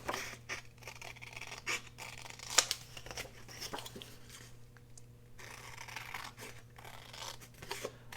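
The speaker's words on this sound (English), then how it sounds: "Now I'm going to go ahead and trim this off." Scissors trim a scrap of paper to cut it straight, making a few soft snips and crisp rustles at close range over a low steady hum, with no talking.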